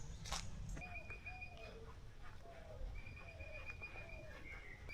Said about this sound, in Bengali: এবং এখানে শুধুমাত্র পাখির ডাক।